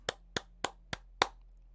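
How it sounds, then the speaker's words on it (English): Five sharp hand claps spaced about a quarter second apart, nearby and fairly quiet, from a small applause for a person called Mamba, with no other voices. "Round of applause for Mamba."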